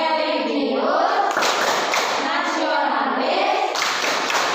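A standing classroom performs the rhythmic PPK clap chant for character education, with children's voices chanting loudly together over patterned hand claps, continuous and close.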